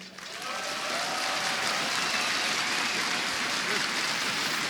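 A large crowd at the ESL One 2015 Katowice Counter-Strike: Global Offensive quarterfinal roars and applauds continuously, a dense wash of cheering and clapping that holds steady throughout.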